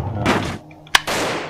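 Cannon fire from an airship in the strategy game Airships: Conquer the Skies, heard as one sharp, loud blast between stretches of broad rumbling battle noise.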